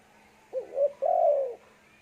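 A single spotted dove coos nearby: a short two-part call followed by a longer, rolling low coo, clear against a quiet background.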